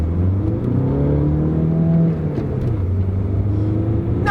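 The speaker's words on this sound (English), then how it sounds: "Well, let's see what this turbocharged diesel can do." A turbocharged diesel car with a German-built engine and transmission accelerates, a steady close engine rumble and whir rising through the gears, no voices over it.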